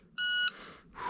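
A single sharp electronic start beep from a shot timer carried in a pocket at a shooting range, loud and brief, followed by faint noise.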